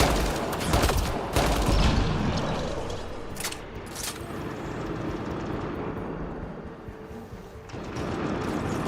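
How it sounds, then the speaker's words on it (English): Gunfire in the video game Mass Effect Andromeda: loud volleys of shooting in the first few seconds, then sporadic sharp shots over a rumbling, aircraft-like drone, with another burst near the end. "What's shooting at me?"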